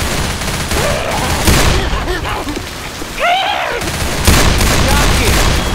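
Gunfire in the zombie shooter Left 4 Dead 2: dense, loud bursts of rapid shots run throughout, with short tonal game effects and a player's voice calling out over the noise.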